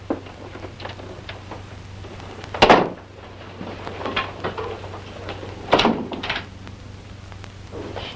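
A bedroom door in an old house thuds shut with a sharp knock, then a second firm knock follows a few seconds later, both near, over a faint steady hum and light rustling.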